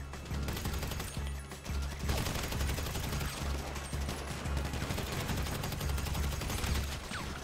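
Sustained gunfire from a GTA 5 Online deathmatch, dense rapid shots with a steady low rumble running throughout at a fairly even level, with no clear talk over it.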